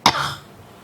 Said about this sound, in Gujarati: ખાંસી કરવી, ખાંસી કરી એટલે કફ્ડ